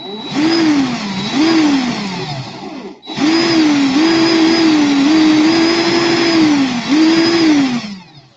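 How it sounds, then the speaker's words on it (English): Sandpaper pressed against a spinning coil of 7-core alien wire while polishing it to a mirror finish, giving a loud, steady motorized whir with a brief dip midway, then running on and tapering off. "So I'm going to take this sandpaper. I'm going to put it on here like this. I'm going to let her rip for a bit."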